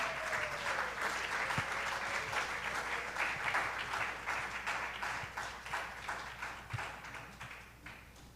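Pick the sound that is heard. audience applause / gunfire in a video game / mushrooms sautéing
audience applause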